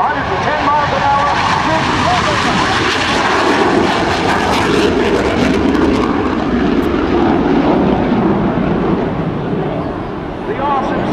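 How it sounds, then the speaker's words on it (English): Boeing F/A-18C Hornet jet fighter roaring past at an airshow, a loud sustained engine rumble that swells and slowly fades as the aircraft passes. "The awesome sound of the Hornet"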